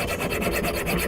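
A tube is cut down to stylus length with quick, rhythmic rasping strokes, close and fairly loud, with no speech.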